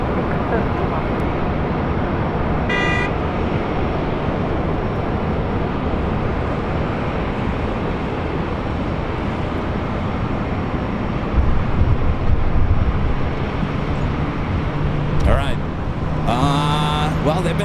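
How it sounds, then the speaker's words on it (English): Steady broadband roar of airliner engines at Los Angeles LAX airport, with an A380 on the runway and a Lufthansa jet on short final, continuous and fairly loud, with brief higher-pitched bursts near the end. "they better get that A380 off the runway because Lufthansa short final"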